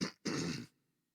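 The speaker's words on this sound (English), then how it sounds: "I had to clear my throat there." A single throat clearing by one person, a short rough burst then a longer rasping one, close and fairly loud, then silence.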